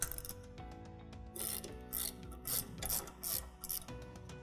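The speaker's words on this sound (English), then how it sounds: "the first thing we're going to do is loosen off that of our locking bolt." Locking bolt on a CLAAS LEXION combine harvester's CONVIO header reel being loosened with a tool, producing close, quiet ratcheting clicks and metallic scraping in irregular bursts, with no talking.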